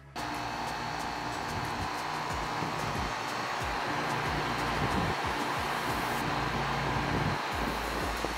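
A loud, steady mechanical whir of an old outdoor air conditioner condensing unit runs throughout, with a faint rattling texture and no voices.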